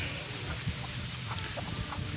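Chickens clucking at feeding time on a farm, soft scattered clucks over a constant background hum, close by and fairly faint.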